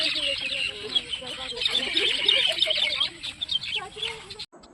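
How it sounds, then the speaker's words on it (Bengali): Many birds call and chirp together outdoors at dusk, a dense, continuous chorus of overlapping high twitters and lower clucking calls, moderately close, which cuts off abruptly at the end. "কত পাখির আওয়াজ, তাই না?"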